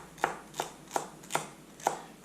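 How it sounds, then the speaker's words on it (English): A knife cuts through a celery stalk in five evenly spaced crisp chops, each with a sharp splitting crunch, close and fairly quiet with no talking. "pretty much what you're hearing is the rest of the celery splitting out"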